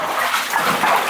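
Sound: wading through water in an abandoned tunnel

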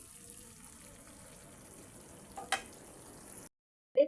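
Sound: stuffed eggplant curry simmering in a covered pot

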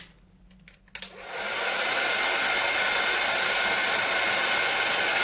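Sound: hair dryer running

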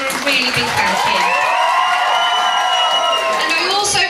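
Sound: audience applause at a school prom

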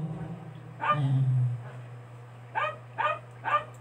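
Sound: dog barking

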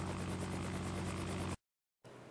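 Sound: sightseeing helicopter flying over lily garden

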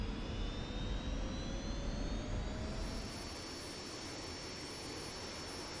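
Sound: F-86 Sabre jet taxiing to runway, video game flight simulator

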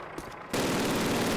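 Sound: gunfire in the video game Call of Duty

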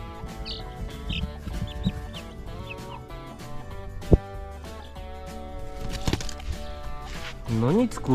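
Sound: chickens clucking

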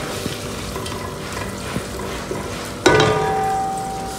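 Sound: chicken frying in a pan

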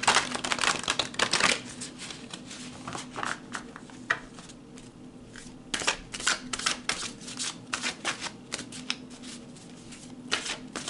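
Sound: pulling oracle cards from a deck

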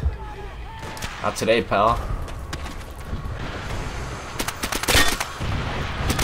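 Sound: enemy artillery fire in video game Call of Duty

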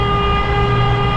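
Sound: car horn honking inside a tunnel

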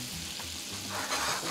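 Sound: fresh butter sizzling in hot pan after searing steak

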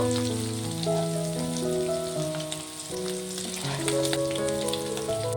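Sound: shrimp frying in oil

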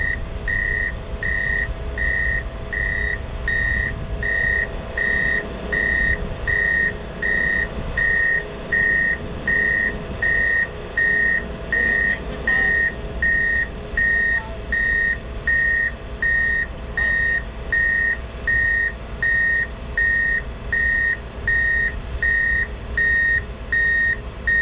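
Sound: reversing beeps near truck loading wheel loader

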